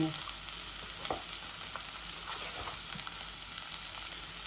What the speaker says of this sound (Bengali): এই চাউল ভাজার সাথে আমি এক চামচ বিরিয়ানি মশলা দিলাম